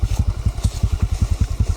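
A motorcycle engine chugs close by in a fast, even rhythm of loud low thumps, idling or moving slowly, with no voices over it.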